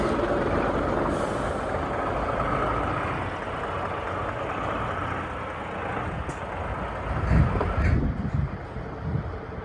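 A heavy truck rumbles steadily as it drives up to a loading ramp, and a loud hiss of air brakes releases near the end, with wind buffeting in the background.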